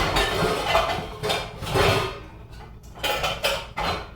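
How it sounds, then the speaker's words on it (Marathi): A large pan and its lid are handled for cooking cabbage bhaji, with a series of loud, close metallic clanks, scrapes and rattles in irregular bursts. "हे मोठं पॅन घेते आणि त्याचं झाकण मला वाटतं इथे आहे, ते घेते"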